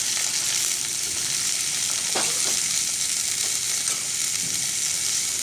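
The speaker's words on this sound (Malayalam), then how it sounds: "നമുക്കിതിലേക്ക് അച്ചങ്ങയും ക്യാരറ്റും കൂടെ ആഡ് ചെയ്യാം എന്നിട്ട് നന്നായിട്ട് ഒന്ന് മിക്സ് ചെയ്യണം" Long beans and carrot stirred in a hot frying pan, a steady sizzle broken by a few scraping stirs, close and alone with no talk.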